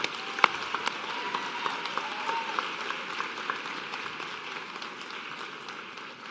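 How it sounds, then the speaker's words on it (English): Sustained applause from an audience at a nursing school white coat ceremony, dense steady clapping with a few sharper individual claps standing out, fairly close and even throughout. "Let's have one more round of applause for all of you."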